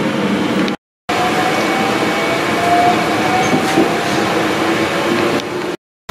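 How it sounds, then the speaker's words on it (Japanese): A train pulls into Kanaya Station in Japan, heard from inside the car as a loud, steady rumble with faint wheel clatter and a thin whine, broken by two short cuts to silence. "電車は金谷駅に到着しました。"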